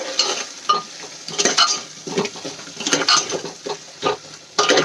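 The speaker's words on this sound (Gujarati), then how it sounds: "ડુંગળી એડ કરીને આપણે એને સરસ રીતે ગ્રેવીમાં મિક્સ કરી લઈશું" Onion being stirred into sizzling masala gravy in a pressure cooker pot, with irregular scraping spoon strokes and clinks over a low, bubbling sizzle, close and fairly loud.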